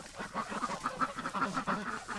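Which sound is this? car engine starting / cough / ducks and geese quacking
ducks and geese quacking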